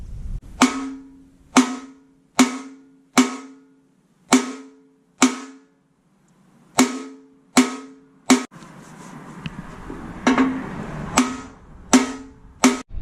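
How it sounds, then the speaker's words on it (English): A ball peen hammer strikes metal on an engine in steady, evenly spaced blows, each a sharp ringing clang, close and loud, with a brief pause midway. "I'm gonna try to see if this ball peen hammer will make a difference."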